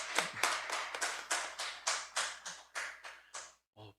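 A church congregation at a Friday prayer meeting claps in a slow, even rhythm of about ten distinct claps, then falls silent, with one last soft knock after the pause.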